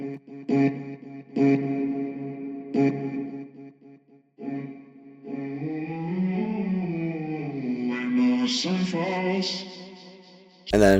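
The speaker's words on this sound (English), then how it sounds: "I'm gonna add a short decay reverb to kind of give a room effect." A processed vocal sample with a short-decay room reverb, with several clipped sung phrases followed by a longer sustained melodic line, each note trailing off with a brief echoing tail.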